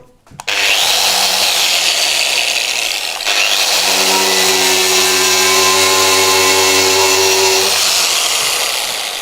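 An angle grinder fitted with a Tyrolit SCM surface-conditioning disc on a backer pad grinds away a welding spot on metal, a loud, steady abrasive whine that runs continuously after a brief start.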